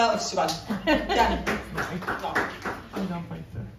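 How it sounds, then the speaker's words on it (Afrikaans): Audience at a talk on deafness clapping, a light patter of hands heard underneath ongoing speech and a little laughter, fairly soft and uneven throughout. "Ek dink kom ons gee dit vir 'n lekker hande klap."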